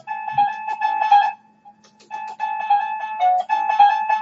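Bedrocker wireless doorbell set to its loudest volume, playing a bright electronic melody of repeated tones in two phrases with a short gap between, clear and fairly close.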